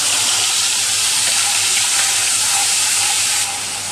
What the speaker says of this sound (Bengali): এবার এতে আমি দিয়ে দিচ্ছি পেঁয়াজ, শুকনো লঙ্কা আর কাঁচা লঙ্কা একসাথে যে বেটে রেখেছি সেটাই আমি এবার দিয়ে দেব। দিয়ে একটু কষিয়ে নেব।